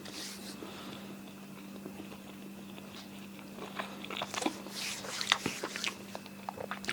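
Crunchy bites and chewing on deep-fried battered pakora with a kebab-meat filling, close and intermittent, growing busier over the last few seconds against a steady low hum, with no talk.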